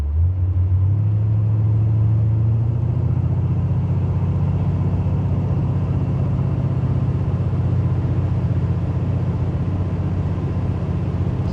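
A big block engine with EFI in a 1986 Buick Regal Limited runs at a steady, even idle, loud and close, with a smooth continuous rumble and no talking.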